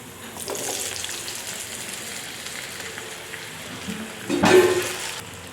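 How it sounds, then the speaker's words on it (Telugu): Onions and potatoes fry in a pan for a crispy potato fry, giving a steady close hiss that swells into a louder, fuller sizzle near the end. "ఆనియన్స్ ఫ్రై అయిపోయి పొటాటో వేసుకుందాం"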